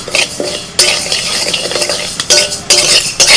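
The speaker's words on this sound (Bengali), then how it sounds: "প্রথমেই মুগের ডালটা একটু ভেজে নেব।" Moong dal dry-frying in a pan is stirred vigorously, with a busy clatter and scrape of a metal utensil against the pan in uneven bursts over a faint sizzle, close and loud.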